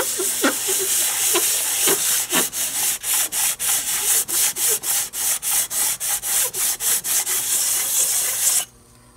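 Hand sanding of an 8 HP Briggs carburetor part with 220 grit sandpaper: a quick, steady run of about twenty close, loud rasping back-and-forth strokes with no talking, stopping abruptly near the end.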